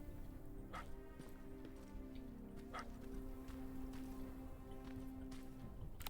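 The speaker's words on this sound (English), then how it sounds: "A dog? A dog?" A dog barks in a tense video game, several short sharp barks spaced irregularly over a steady low hum of game ambience, sounding somewhat distant and faint.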